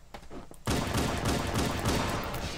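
Rapid automatic gunfire from the Halo video game during a fight against Hunters, a dense continuous fusillade that starts abruptly after a few scattered shots and stays loud to the end.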